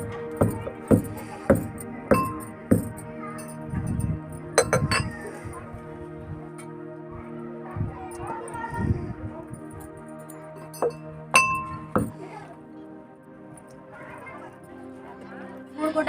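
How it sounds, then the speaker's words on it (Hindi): Pieces of jaggery, broken by hand, drop one at a time into a kadhai to melt for a homemade remedy. They make a run of sharp clinks in quick succession, then a few scattered knocks over quiet kitchen background. "हम फोड़ लिए हैं और हाथ से तोड़कर डाल देते हैं एक एक करके गुड़ को।"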